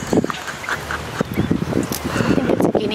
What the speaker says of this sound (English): I think it's a guinea fowl.